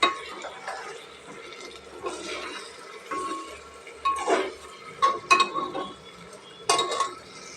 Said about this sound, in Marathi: आधी हळद छान अशी मिक्स करून घेऊया